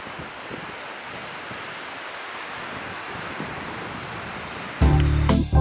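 Surf washes onto the beach at Praia de Ubatuba in São Francisco do Sul as a steady, broad rush of waves, mixed with wind noise. A loud buffeting gust hits the microphone near the end.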